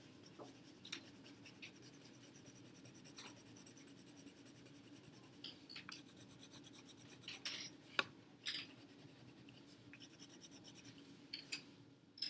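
A pen scratching steadily across paper while shading a region of a graph during algebra notes on linear inequalities, a continuous close dry rasp with a few brief pauses and no talking.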